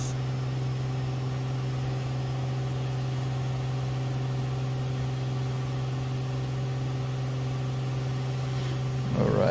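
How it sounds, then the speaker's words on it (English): A light aircraft engine runs steady and loud at high power with a constant droning hum, heard from inside the cabin with no talking. "ease up the engine because I'm really pushing it like this"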